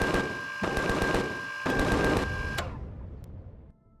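A spaceship turret in the game Empyrion Galactic Survival fires loud rapid automatic bursts, three in quick succession, then cuts off and leaves a fading hiss and a faint click.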